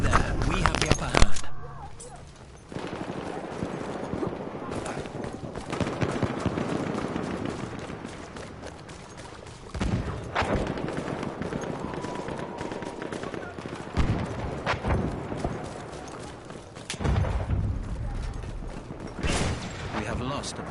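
Shotgun and other gunfire in Battlefield 1: repeated sharp blasts and bursts scattered through ongoing battle noise, with someone talking over much of it.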